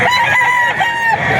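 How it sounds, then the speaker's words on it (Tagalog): Several roosters crow at a busy poultry market, their long drawn cock-a-doodle-doo calls overlapping loudly and close by, with clucking fowl and market bustle underneath. "Ang daming mga manok."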